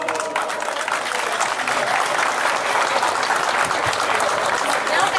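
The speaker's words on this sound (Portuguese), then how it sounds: "Salva de palmas." A large crowd at a cowboy festival mass in Nanuque applauds in a dense, loud, continuous wash of clapping that holds steady throughout, with faint voices beneath it.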